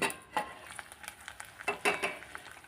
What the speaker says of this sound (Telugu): చూడండి, ఇవి కూడా మంచిగా ఇలా ఫ్రై కావాలి.